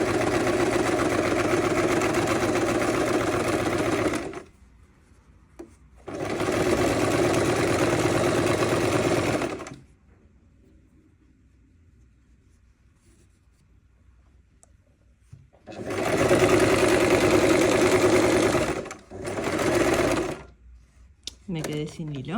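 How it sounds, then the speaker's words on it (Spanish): Sewing machine stitching a shirt seam, running in three or four steady whirring bursts with quiet pauses between them where the needle is set and the presser foot lifted to turn the fabric. "clavamos la aguja, levantamos el prensatela y ahí damos vuelta para poder reencaminar la costura"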